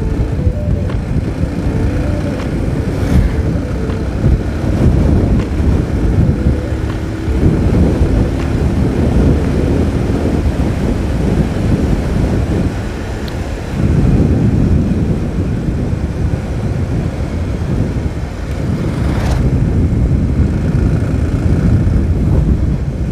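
Motorcycle ridden along a highway, with steady engine drone and heavy wind buffeting the microphone throughout, loud and continuous, dipping briefly midway before surging again.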